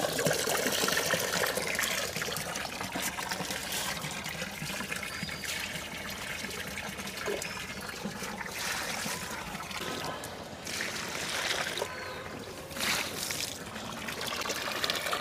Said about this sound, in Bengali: এখন গাছগুলোতে পানি দিয়ে দেব।